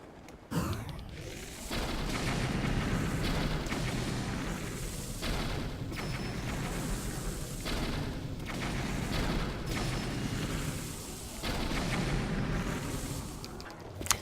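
Video game explosions in Breath of the Wild: a series of heavy booming blasts with rumbling low end, several bursts spread across the span, loud and continuous with no talking.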